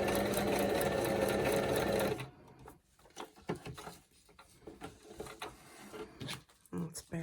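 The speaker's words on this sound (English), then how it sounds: "I'll just have to sew that a bit quickly" A sewing machine stitches down a scrapbook layout page in a short, steady burst that runs loud for about two seconds, then stops, leaving quiet handling noises and light rustling.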